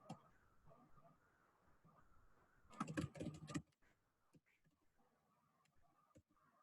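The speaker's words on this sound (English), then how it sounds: "So I'm actually typing up on the Zoom group chat." Typing on a computer keyboard in a Zoom group chat during an online lecture: a dense burst of rapid key clicks lasting about a second, set in a quiet room with faint voice-like sounds before and after.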